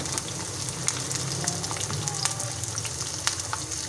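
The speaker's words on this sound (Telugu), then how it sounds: "4-5 పచ్చిమిర్చి, కొంచెం కరివేపాకు వేసుకున్నాం. బాగా వేగాయి." A handful of green chillies and curry leaves frying in hot oil, a continuous close sizzle with light crackles and occasional faint spatula taps.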